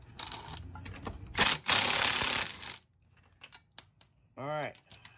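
An impact gun rattles off the front wheel nuts of a Honda Helix scooter in two loud, close bursts of harsh buzzing hammering, followed by a few light clicks and a brief voice.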